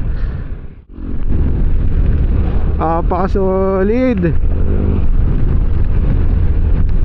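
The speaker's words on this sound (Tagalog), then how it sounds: "Lakas ng hangin dito." Strong seaside wind roars steadily against the microphone throughout, with a brief dip near the start and a short spoken word partway through.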